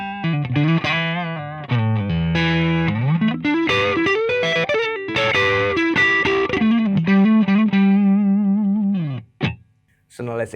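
A Fender Telecaster plays through an Orange Jim Root Terra amp set at the edge of breakup, giving lightly gritty chords and single-note lines with sustained ringing tones that stop abruptly near the end.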